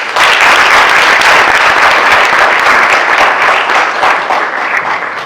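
An audience at a launch event in the DCU Center, Worcester, applauds after a speech, a dense, loud, steady wash of clapping that eases slightly near the end.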